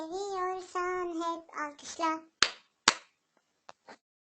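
A Turkish children's clap-if-you-love song carries a short sung phrase, followed by two sharp, close handclaps and a couple of softer claps, spaced apart with quiet between them.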